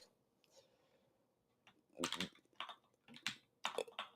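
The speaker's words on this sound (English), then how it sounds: "And then we're going to type something like," Typing on a computer keyboard: a quiet stretch, then several short bursts of close, crisp key clicks in quick clusters.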